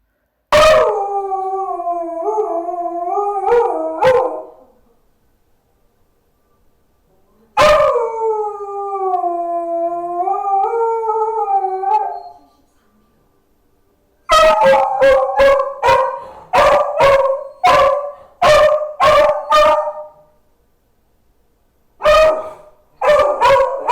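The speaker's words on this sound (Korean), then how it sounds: "간헐적으로 짖고 하울링을 했더라고요" A beagle left alone indoors howls in two long, wavering drawn-out bouts, then breaks into a rapid series of loud, close barks and yips with short silences between, the sound sharp and dominant throughout.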